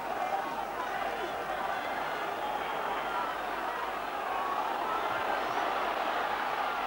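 A Warrington rugby league crowd at a Lancashire Cup final against St Helens keeps up a steady, broad roar of cheering and noise throughout, with a commentator's voice over it.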